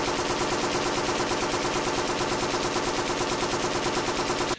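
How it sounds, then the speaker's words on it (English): An M60E6 7.62 mm light machine gun fires one continuous, loud burst of rapid, evenly spaced shots that lasts several seconds and then stops abruptly. "what's nice about the M60 is the slower rate of fire"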